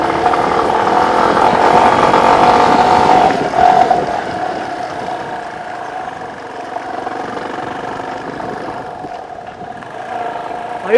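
A Yamaha Serow 250 trail motorcycle engine drones steadily at moderate revs, close by, climbing a steep forest road, easing slightly partway through before picking up again.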